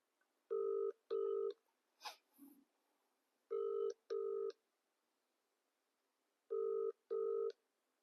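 A telephone call rings through, its ringback tone sounding as three pairs of quick electronic double beeps with silent gaps between them, quiet and clean, plus a brief rustle early on.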